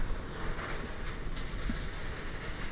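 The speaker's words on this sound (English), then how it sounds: "it's a baggage trailer train there. It's making quite a racket." A baggage trailer train at DFW Airport rattles past with a steady, continuous clatter and rumble, fairly close and noisy throughout with no talking.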